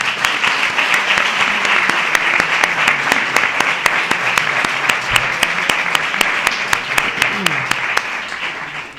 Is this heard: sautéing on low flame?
no